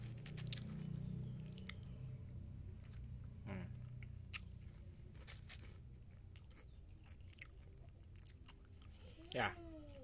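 Close crunching and chewing of a crunchy Nyam Nyam Fun Play snack dipped in chocolate, with intermittent bites and squishy chews across the stretch and occasional sharp crackles.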